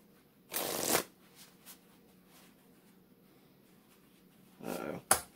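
A deck of Bicycle playing cards is shuffled in two short riffle bursts, one near the start and one near the end, with a quiet pause between them and a light tap after the second.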